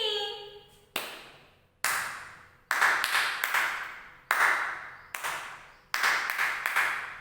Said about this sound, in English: This is clapping.